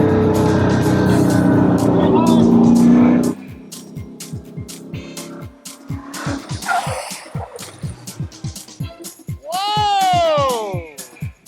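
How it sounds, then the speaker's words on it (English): A Nissan 240SX pro drift car engine revs loudly, then drops into a rapid rhythmic popping of engine braking before cutting out; a shout follows near the end. "He used the engine braking and just turned it off."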